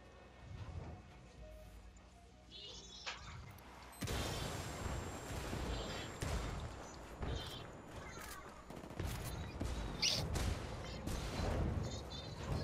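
Enemies spray automatic gunfire in Ghost Recon Wildlands, a near-continuous rattle of shots with booming impacts that grows louder after a quieter opening, while players talk over it.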